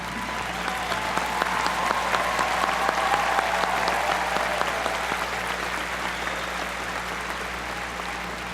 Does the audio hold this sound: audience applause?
yes